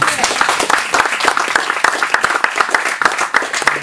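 An audience claps at a country music gig: dense, steady applause with many sharp individual claps, loud and close for the whole stretch.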